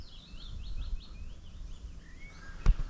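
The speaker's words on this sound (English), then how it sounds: "Oh, that's a blackbird. I know a blackbird." Outdoor blackbird song: a series of fluting, warbling phrases, fairly faint and distant, with a brief sharp knock near the end.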